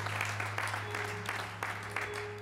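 A church congregation at a Baptist worship service claps in praise, a dense burst of applause rising and fading in pulses over a steady low hum, with no talk.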